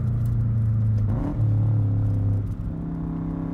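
A Subaru Forester STi Type-M with a muffler delete drones at steady engine speed from inside the car, a deep low hum that dips briefly as gears change, then settles.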